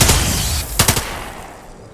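Gunfire in the video game Lamplighters League: a short burst of two or three sharp shots fired close together near the middle, over a low game background.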